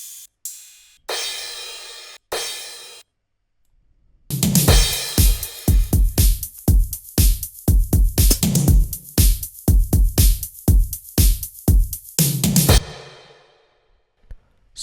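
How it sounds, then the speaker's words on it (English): A programmed dance drum beat from an Ableton kit plays: a few isolated hits and a cymbal swell, then a steady pattern of punchy kicks, snares and hi-hats for several bars, loud and alone, ending on a decaying crash. "So, this drum beat sounds decent."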